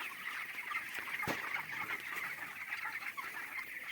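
A flock of broiler chickens clucks and murmurs steadily on a farm in Assam, a dense, continuous chatter of many birds at moderate distance.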